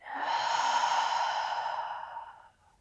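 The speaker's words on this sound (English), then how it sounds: "Take a big breath in. And a big breath out." A deep breath in and out at the close of a standing balancing yoga flow, one long airy exhale that fades out, close to the microphone with no talking.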